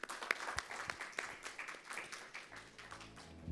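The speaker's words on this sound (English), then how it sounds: "Please give them a round of applause." Panel forum audience gives scattered applause at the close of a session, faint and somewhat distant clapping with separate sharp claps standing out, tapering off toward the end.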